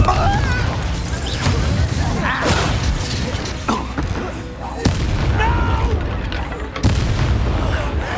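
Spell combat in Hogwarts Legacy ending in a Confringo explosion, with repeated loud booms and crashing impacts mixed with voices casting spells and game effects.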